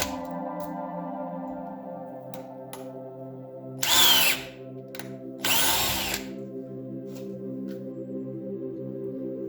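Parkside PWBSA 12 cordless angle drill running at full speed for drywall work, a steady high motor whine with two brief louder bursts of load partway through.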